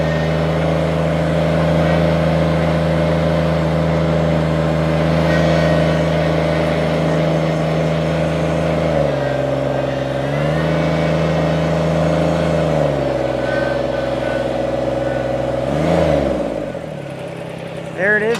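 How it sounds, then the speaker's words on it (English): A 2009 Kubota BX2360 compact tractor runs steadily close by with its mower deck engaged, a continuous loud engine drone that dips and recovers in pitch a few times as load changes. "Mower deck's good and quiet."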